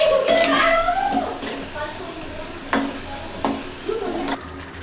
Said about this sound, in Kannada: ಅದಕ್ಕೆ ಸ್ಲೋ ಫ್ಲೇಮ್ ಒಳಗೆ ಫ್ರೈ ಮಾಡ್ಕೋತೀನಿ ರೀ